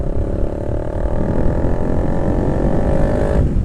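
A Yamaha R15v2 motorcycle fitted with an SC Project exhaust is ridden in traffic, giving a loud, close, steady engine drone with a rising pitch as it accelerates, then easing off near the end.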